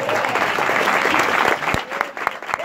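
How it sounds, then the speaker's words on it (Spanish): Applause from an audience at a hotel show, dense clapping that breaks up into scattered individual claps toward the end. "Fuerte el aplauso para la abuela."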